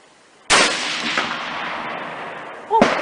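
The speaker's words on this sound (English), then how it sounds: "So that's the first shot." A Savage Axis rifle in .243 Win is fired while sighting in a new scope outdoors, a single loud sharp crack with a ringing decay, followed near the end by the onset of another loud sound.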